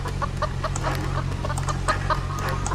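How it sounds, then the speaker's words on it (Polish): A chicken in the Roblox video game clucks in a rapid series of short, close clucks over a constant low background hum, with no talking. "możemy postawić kurczaka na przykład, który chodzi, ale jest dziwny bardzo"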